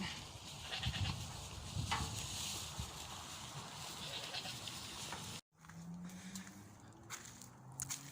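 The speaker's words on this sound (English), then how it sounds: "Dinner time for the goats." Goats bleat at feeding time amid a steady rustle of wind and movement, calls rising over the noise, then a quieter stretch with a low hum.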